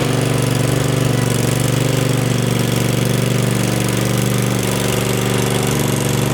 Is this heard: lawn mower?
yes